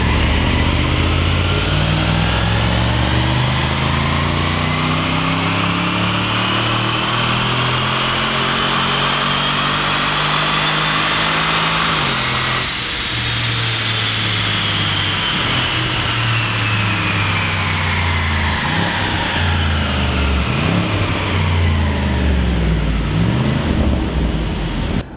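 Jaguar XF engine after a Stage 1 tune, revving hard on a dyno, a loud sustained roar with rising and falling harmonic sweeps that climb steadily then dip briefly midway before building again.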